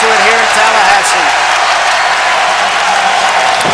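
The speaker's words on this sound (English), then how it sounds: "the crowd is really into it here in Tallahassee" A basketball arena crowd in Tallahassee roars steadily through a Florida versus Florida State college game, a loud dense wall of cheering with a commentator's voice underneath at the start.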